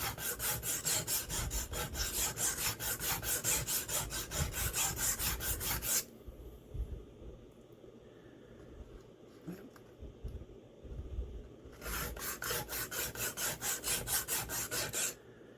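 A knife edge is drawn repeatedly across a sharpening stone set at 17 degrees, rasping in quick rhythmic strokes, pausing for several seconds in the middle and then resuming.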